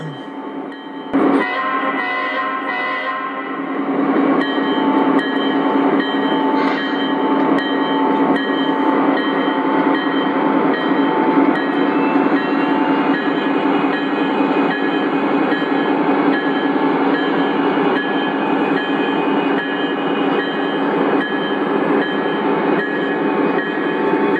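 O gauge model Conrail train pulling out on a layout, a steady, loud mechanical rolling drone with a brief sharp clank near the start, continuous throughout with no talk.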